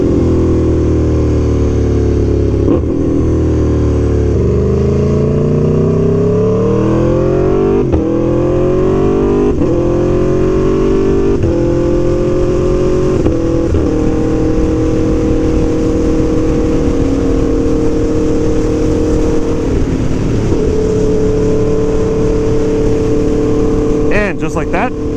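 Aprilia Tuono V4 1100 Factory superbike riding steadily on cruise control, its engine holding a constant drone with gradually rising, then level pitch, loud and continuous beneath strong wind rush, with a brief change near the end.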